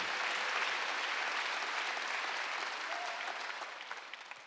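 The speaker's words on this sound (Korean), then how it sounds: "믿는 사람만 박수하세요" Church congregation clapping during a Wednesday worship service: dense, even applause from many people, steady and somewhat distant, tapering off slightly toward the end.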